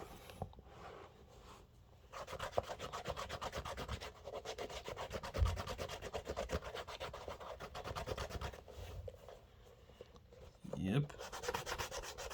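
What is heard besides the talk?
rubbing suede of Clarks Wallabee shoes with cleaner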